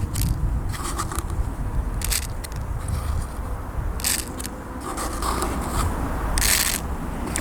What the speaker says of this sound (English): All those seeds hitting the bottom of the seed packet.